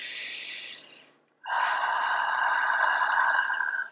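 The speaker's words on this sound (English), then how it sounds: "So breathe with me" Deep breathing during a guided breathing exercise: a long, airy inhale, a short pause, then an even longer, steady exhale, loud and close to the microphone.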